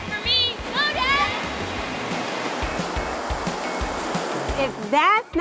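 Continuous rushing and splashing water from the slides and flow rider at Kalahari water park, with children's high voices calling out briefly at the start and again near the end.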